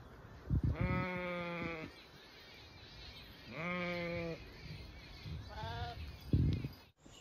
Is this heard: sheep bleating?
yes